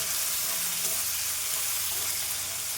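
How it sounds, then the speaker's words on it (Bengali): Chopped onion fries in hot oil for shol fish kalia, a dense, steady sizzle that stays loud and even throughout with no talk. "এবার দেব পেঁয়াজ কুচি পেঁয়াজটাকে আমি একটু লালচে করে ভেজে নেবো"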